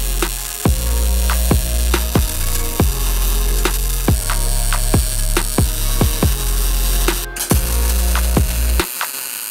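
Tack welding on steel press brake kit parts: a steady buzzing hum broken by a regular series of sharp clicks and arc pops roughly every half second, close and loud, ending abruptly in near silence.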